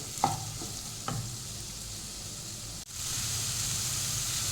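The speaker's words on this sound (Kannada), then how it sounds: "ಸ್ವಲ್ಪ ಸ್ಲೋ ಇಟ್ಕೊಂಡು ಫ್ರೈ ಮಾಡ್ಕೊಳ್ಳಿ" Onions frying slowly over a low gas flame, a soft even hiss of oil with a couple of light utensil taps, steady and close, no voices.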